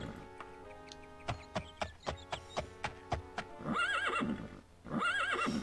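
In a video game, a horse's hooves clop in a steady, evenly spaced rhythm, followed by two loud, drawn-out whinnies close by.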